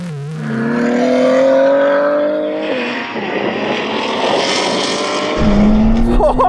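A Lamborghini Revuelto launches in a drag race against 1000 hp BMW M3 Touring and Audi R8 cars, engines roaring loud and close, climbing in pitch through the gears with a sharp shift midway and another engine surging at the end.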